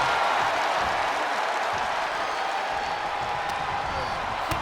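A steady, dense roar of cheering from a wrestling arena crowd in the WWE 2K23 video game fills the whole stretch without letup, with no clear break or peak.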